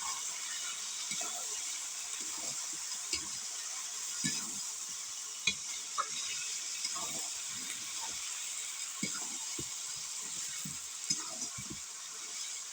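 Chicken curry being stirred in a pan, with a steady sizzling hiss underneath and irregular scraping clinks of the spoon against the pan, close and continuous, no voices.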